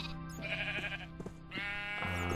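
Sheep bleat in a garden-building video game, several wavering, drawn-out cries following one another closely, moderately loud with no talk over them.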